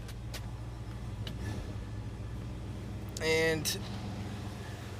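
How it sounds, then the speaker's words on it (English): A 1969 Ford Mustang Mach 1 idles after a cold start, a steady low rumble running throughout with a brief louder burst near the end, and a voice speaks over it. "there it is, chugging away, doing what it's supposed to do. Cold start of the 69 Mustang Mach 1."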